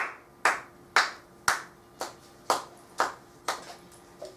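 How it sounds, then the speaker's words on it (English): Preschool children clap their hands in unison, a series of about ten sharp, evenly spaced claps that ring in a bright room, fairly quiet overall with no talking. "clap your hands"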